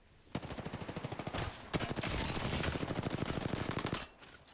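Rapid automatic weapon fire in Apex Legends, a long continuous burst of evenly spaced shots, loud and close, pausing briefly before resuming and cutting off near the end.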